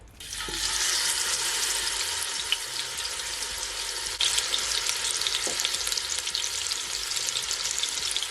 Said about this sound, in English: I'm just gonna allow it to brown, okay, for at least 3 minutes on each side.